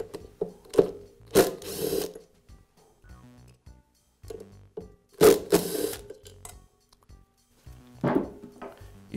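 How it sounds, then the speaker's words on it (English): An impact driver working screws loose from a DeWALT planer cutter head, giving short separate bursts of whirring and hammering with quiet gaps between them, close and fairly loud. "the impact driver is more likely to remove that screw without damaging the head"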